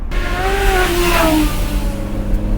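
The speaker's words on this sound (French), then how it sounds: "on entend le bruit du moteur qui est direct derrière nous" A roadster's engine mounted directly behind the seats, heard from the cabin as a loud, close revving drone whose pitch climbs and falls, with wind rushing around it.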